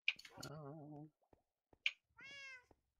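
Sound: cat meowing

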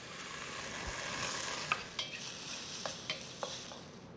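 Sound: stir-frying ginger, garlic and smoked tofu in a wok

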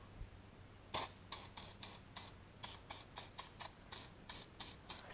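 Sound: spraying Rust Bomb penetrating spray on catalytic converter

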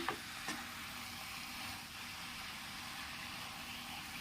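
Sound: chicken stirred in a pan for chicken curry

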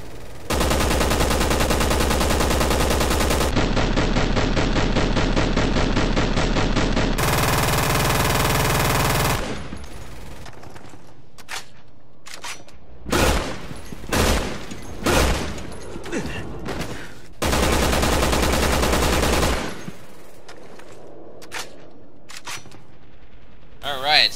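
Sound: assault rifle for special tactics firing in video game Resident Evil 6

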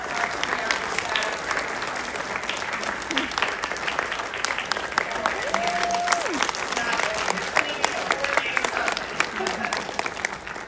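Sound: audience applause for the community outreach team

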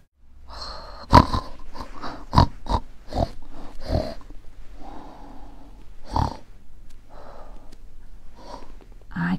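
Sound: snoring

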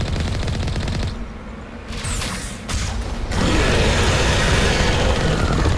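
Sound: cannon gunfire in a video game

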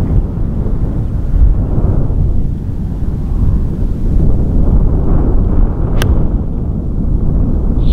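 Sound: wind blowing across a golf course

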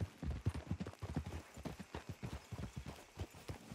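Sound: horse hooves clip-clopping in a video game

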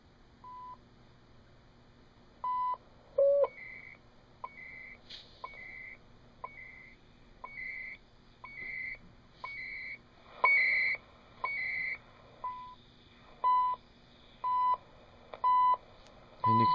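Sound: CHU shortwave time signal beeps on a surplus receiver

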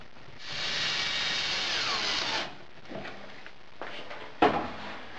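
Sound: power drill fastening router table down to braces

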